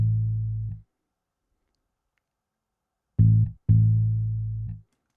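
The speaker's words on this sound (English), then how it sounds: "Then I added a bass, which is coming from Trillion, and the preset is just a clean Fender mute" A clean Fender-style muted synth bass from the Trillion instrument, playing low sustained root notes with a gap, then a short note followed by a longer held one, fairly loud and alone.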